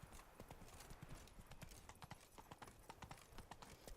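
Roach, Geralt's horse in The Witcher, trots along with quick, even hoof clip-clops, a steady close rhythm that runs the whole time beneath soft game ambience.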